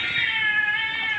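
One long, loud, wavering cat yowl rings out steadily, from two cats fighting in a neighbour's garden.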